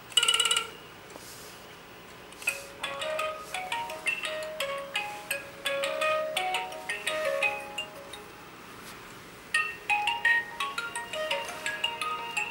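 Nokia Marbles ringtone played through a Pocket Boom portable speaker, a run of bright clinking, marble-like chimes in repeating rhythmic phrases, clear and fairly close with short gaps between bursts.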